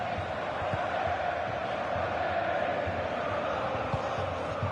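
A dense, steady roar of a large stadium crowd in the football video game FC25 fills the background, constant and loud without distinct cheers or chants.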